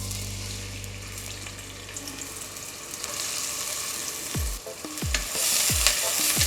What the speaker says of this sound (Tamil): நல்லா வதக்கிக்கலாம் ஆனியனை